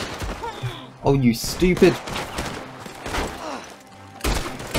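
Red Dead Online gunfire, several sharp shots and bursts scattered across the moment, mixed with a player talking over the game sounds.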